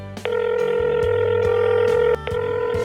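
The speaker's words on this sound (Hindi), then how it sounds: "गौरी ने कई बार फोन किया लेकिन आदर्श फोन उठाता ही नहीं" An electronic phone tone sounds steadily and loudly, broken by a couple of short gaps, like a call ringing out unanswered.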